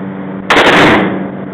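One loud, close gunshot from a .357 Magnum Smith & Wesson revolver fires on a shooting range, a sharp crack followed by a short decaying echo.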